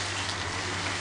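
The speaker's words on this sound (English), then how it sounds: "Hurry up, it's starting to rain." Steady soft hiss of light rain beginning to fall outdoors near a home with trained pet animals, a continuous even wash with a low hum underneath and no voices.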